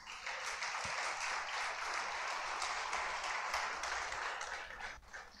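A church congregation breaks into sustained applause during a sermon, a broad wash of many hands clapping that holds steady for several seconds before tapering off near the end, heard at a moderate distance and fairly quiet.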